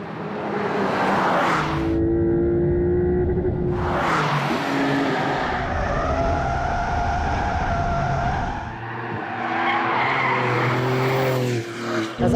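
A 650-horsepower Porsche 992 Turbo S pushed hard around a tight, narrow track, its engine roaring loud and close with repeated tire squeals and skidding as it rises and drops through corners, with no voices over it.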